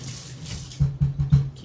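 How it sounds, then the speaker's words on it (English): Water from a kitchen tap running over a spatula during cooking, a soft steady splash with a few quick louder pulses near the end as the utensil is rinsed, close and alone. "wait, let me rinse off the spatula"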